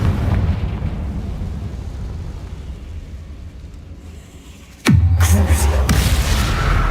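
A Confringo fire spell detonates in Hogwarts Legacy: after a stretch of low rumbling ambience, a sudden loud blast hits near the end, followed by a sustained roaring burst of noise.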